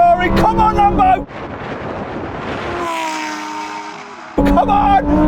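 A Ferrari 488 Pista drag racing a Lamborghini Huracan STO, a loud engine roar passing close with a rising whine and wind rush, framed by talk at the start and end.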